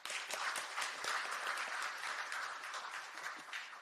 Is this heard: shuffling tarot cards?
no